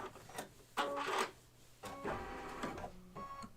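A home embroidery machine stitches a coaster in the hoop, giving short bursts of quick mechanical needle chatter separated by brief pauses, close by and moderately quiet.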